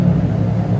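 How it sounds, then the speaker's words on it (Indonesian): A car fitted with an aftermarket Sokudo exhaust idles with a deep, steady bassy rumble, close and loud, no voices. "Ini suara idle seperti ini, ngebass."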